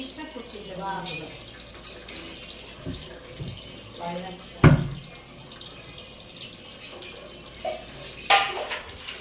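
Water runs from a tap while meat is washed in a kitchen, a steady splashing with clinks of a bowl or pot and a couple of sharper knocks. People talk over it.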